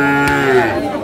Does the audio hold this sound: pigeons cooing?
no